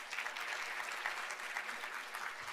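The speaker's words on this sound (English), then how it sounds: "Give her a round of applause." An audience claps for a food-science speaker at a World Food Day event, a continuous moderate round of applause heard from a distance without talk.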